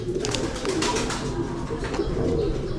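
Pigeons coo during pigeon training, low soft throaty calls repeating close by against a faint background rustle.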